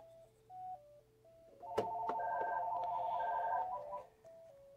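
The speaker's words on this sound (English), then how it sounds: "I knew the phone calls were coming in real soon." An electronic telephone ring sounds in a workshop where a 1963 Montgomery Ward Airline Imperial console television is being serviced, a sustained warbling tone of about two seconds, fairly loud over quieter beeping tones.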